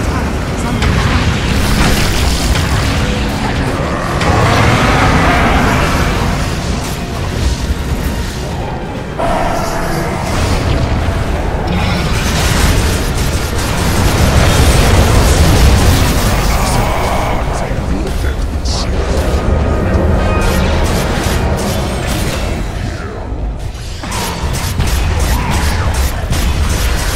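Towers and barracks crumbling in a Dota 2 match: a continuous, loud rumble of booms and bursts with game effects layered over it and a narrating voice running throughout.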